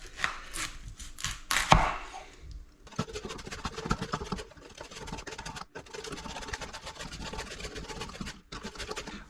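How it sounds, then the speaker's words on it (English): Red cabbage shredded on a mandolin slicer, a dense run of quick rasping, scraping strokes close by, with a few louder knocks early on and short pauses between passes, no talk. "once I get all of the cabbage, the red cabbage, through the mandolin"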